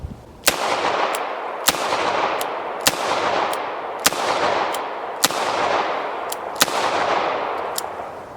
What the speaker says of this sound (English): Next we're going with the Federal 32 H&R Magnum. This is a 95 grain semi-wad cutter.